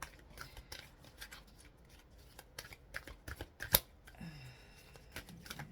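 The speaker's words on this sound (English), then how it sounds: "Let's see if I can shuffle this one correctly." A tarot-style card deck riffles and snaps in quick bursts of papery flutter, close by, with a few sharper taps and a faint voice between shuffles.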